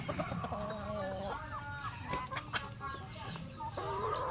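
Chickens on a chicken farm cluck busily and continuously, several birds calling at once with overlapping clucks and squawks close by, no talk.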